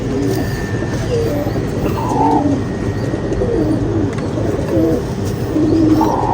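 Pigeons coo softly from a tree, the repeated low cooing calls layered over a constant outdoor background hum with faint traffic.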